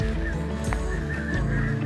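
A flock of snow geese in a South Dakota spring sky honks in a dense, continuous chorus. The overlapping calls are loud and steady throughout, with no voices.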